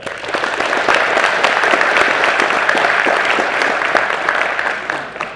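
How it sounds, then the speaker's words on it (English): An audience at a racers' hall of fame induction ceremony applauds an award honoree: sustained, full clapping from a sizable crowd, fairly close and even, with individual claps popping through before it gradually tapers. "please give them a round of applause"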